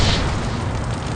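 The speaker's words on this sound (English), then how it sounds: "a violent explosion occurs known as backdraft." Backdraft explosion in the 9-1-1 Fire Captain firefighting video game: a single broad, roaring blast that stays loud and steady for about a second, with no voices.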